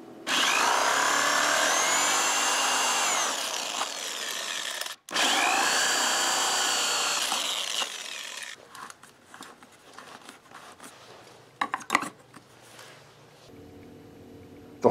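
A power drill whines loudly through two long bursts with a short pause between, boring 2 1/4 and 1 3/4 inch holes in a 5-gallon plastic bucket, then fades into scattered clicks and handling noises.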